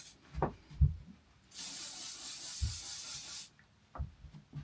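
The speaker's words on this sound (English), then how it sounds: "I'm going to use the GHD Shine Spray" GHD Shine Spray hairspray hisses from the can onto hair in a single sustained burst of about two seconds, framed by soft handling thumps and rustles before and after.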